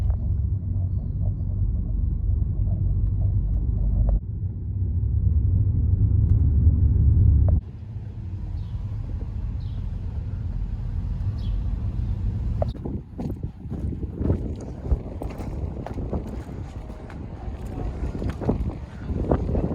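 A car drives along a coastal road toward a beach in Torrevieja on the Costa Blanca. A steady low engine and road rumble runs throughout, with a shift partway through to lighter road noise and occasional knocks.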